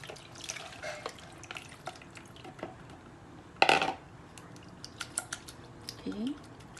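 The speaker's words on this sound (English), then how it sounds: "So we're going to strain it out now." Water being poured off settled tapioca flour through a strainer from a pot, with trickling and dripping, a sharp clank of the pot, and a brief voice near the end.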